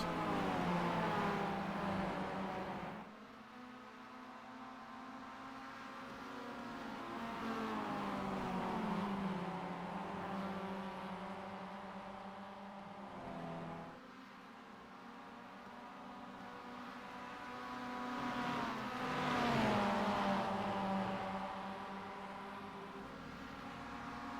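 Race car engines in the iRacing sim-racing game drone loudly and continuously, the pitch climbing and dropping with revving and downshifts as cars run close together on track.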